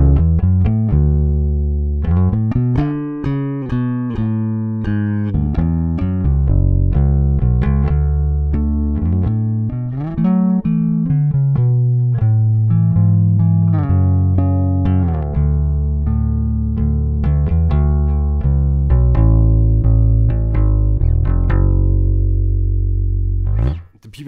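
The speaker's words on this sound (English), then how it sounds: "bass that you've just heard is built by my friend Alice Vejudil" A custom-built bass guitar recorded through a preamp plays a melodic line of deep, sustained notes with slides, full and close, with the last note cut off sharply.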